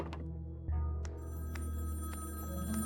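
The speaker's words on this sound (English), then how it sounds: "I answered the phone." A telephone rings in the dark horror game Sally Face, clear and close, with repeated shrill bursts over a low steady hum and no voices.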